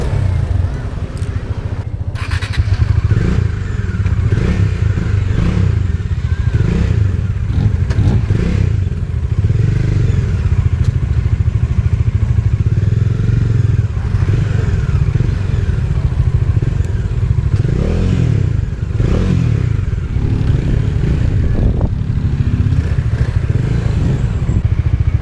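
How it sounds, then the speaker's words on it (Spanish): A Bajaj Dominar 400 motorcycle is ridden on a rural road, its engine droning loud and continuous under heavy wind rush, with rising and falling revs and occasional clatter and bumps throughout. "voy a probar la Dominar 400 a ver qué tanto corre"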